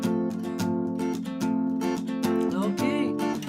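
Acoustic guitar plays the intro of a song with steady strummed chords in a bright, busy rhythm, close and alone without voices.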